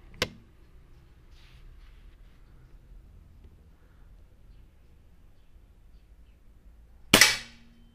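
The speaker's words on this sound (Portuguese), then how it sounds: "Último disparo agora." A Boito Urutu 5.5mm air rifle fires a 21-grain slug, a single sharp, loud crack near the start, then near-silence before a second louder snap of the slug striking its target about seven seconds later.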